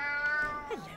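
A cat from the video game Alice: Madness Returns lets out a single clear meow that rises and then slides down in pitch, close and distinct, with a quiet game ambience behind it.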